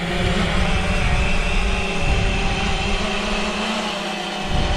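A fishing drone takes off on a windy morning, its loud, steady propeller whine and rushing air filling the scene close by, with no voices.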